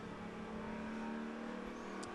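Sports cars race at Daytona International Speedway in the BMW Performance 200, Continental Tire SportsCar Challenge, with a steady engine whine and a car passing close by near the end.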